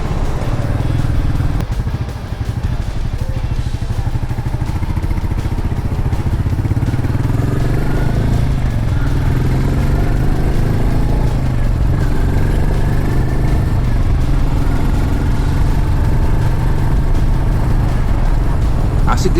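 A Royal Enfield Meteor 350 motorcycle's single-cylinder engine runs loud and steady for about twenty seconds, a deep continuous throb recorded up close, with no talking over it.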